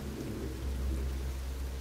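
Steady rain falling, heard as a continuous low, dense wash of noise with no voices, holding at an even level throughout.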